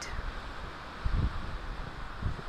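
Strong gusty wind of 25 to 30 gusting to 40 buffets an open mountain knoll in Colorado's San Juan Mountains, a steady roaring rush with low surges, loud and close with no voices.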